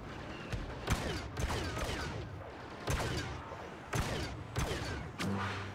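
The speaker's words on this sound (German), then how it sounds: "Ja, mit Explosionsschüssen." Explosive gunshots in the Star Wars Battlefront video game, a series of sharp blasts fired in an irregular rhythm, each with a short ringing tail, fairly loud and with no talking over them.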